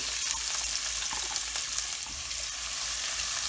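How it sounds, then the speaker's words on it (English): Onions and peppers with garlic sizzle steadily in hot oil in a pan, a constant close crackle and hiss broken by small pops and soft stirring sounds, with no talking. "We're going to add in our onions and peppers, or just onions if you want"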